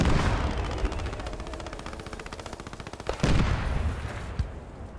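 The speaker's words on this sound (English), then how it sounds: "Oh, grenade." Gunfire crackles in rapid repeated shots in Post Scriptum, then a sharp loud grenade blast bursts near the middle, followed by a few more heavy impacts before the firing thins out.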